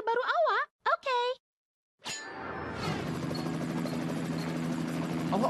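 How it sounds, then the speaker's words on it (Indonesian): A cartoon solar-powered helicopter starts up with a bright metallic clang and then settles into a continuous whirring hum. Short cartoon voice sounds come first. "Helikopter ni mesra alam juga. Ia berfungsi berdasarkan tenaga solar."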